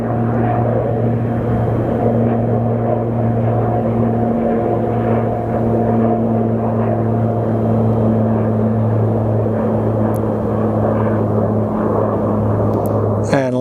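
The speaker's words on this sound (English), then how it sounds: "And we do have a King Air departing." A King Air or Pilatus turboprop departing at Sky Harbor Airport, a steady loud propeller drone with strong tonal harmonics holding throughout, near and continuous with a faint voice beneath.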